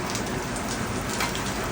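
Heavy rain pours down in a dense, unbroken hiss, loud and close with no voices, the steady patter of drops striking surfaces filling the whole moment.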